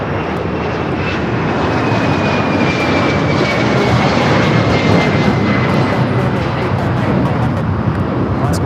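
A Cathay Pacific heavy jet bound for Hong Kong rolls for takeoff on runway 25 right at LAX, its engines a loud, steady broadband roar that builds slightly over the stretch, with faint voices in the background.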